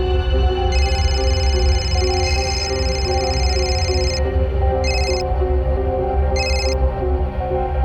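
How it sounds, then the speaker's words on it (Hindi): A telephone rings in a tense indoor drama scene, its bright repeating electronic tone pulsing steadily over a loud musical background, breaking off briefly and returning in short bursts near the end. "अभी मल्हार को फोन करती हूँ और सब सच बताऊंगी"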